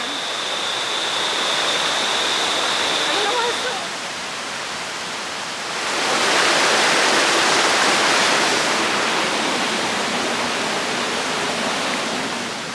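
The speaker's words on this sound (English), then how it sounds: "This is the top of the waterfall." Rushing water at the top of Dunn's River Falls in Jamaica, a loud steady broadband roar that swells in the second half, with a faint tone early on.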